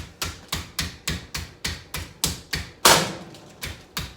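A rolling pin pounds chicken flat for a Godfather chicken dish, about ten evenly spaced, sharp thuds at a steady rhythm, close and fairly loud, one blow noticeably harder than the rest, with no talk.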